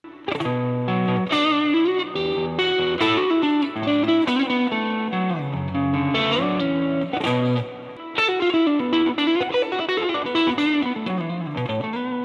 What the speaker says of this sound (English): now I switched over to my tube amp, my Deluxe Blues Reverb amp, along with these two pedals